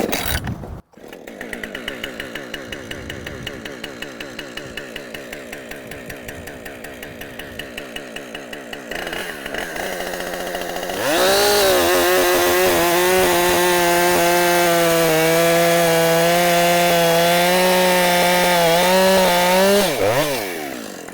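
Husqvarna chainsaw cutting wood at an expo, the engine idling with a rhythmic putter before revving up into a loud, sustained high-pitched cutting roar close by.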